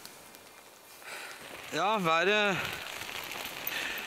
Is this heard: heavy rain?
yes